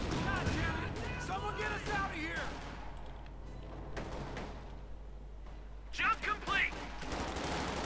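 Submachine gun bursts and scattered rifle fire from close-quarters combat in the Company of Heroes 2 strategy game, a dense continuous fusillade with a commentator talking over it throughout.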